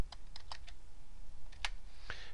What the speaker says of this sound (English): my arrow keys didn't work, so I hit the F2 key